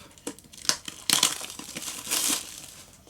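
Protective film is peeled and crinkled off the packaging of a LIUSI AirPower iPhone and Watch charger, a close crackling tear with crumpling bursts, sounding alone.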